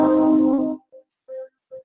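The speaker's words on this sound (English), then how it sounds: "Next one up is the minor third." A minor third interval, two notes sounded together on one instrument, rings out with rich sustained harmonics for under a second, then decays; a few brief softer tones follow after pauses.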